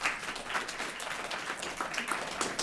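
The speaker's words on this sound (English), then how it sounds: "So big round of applause for them." Audience applause for a panel at a housing legislative update session: a dense patter of many hands clapping, steady and fairly soft, lasting a few seconds.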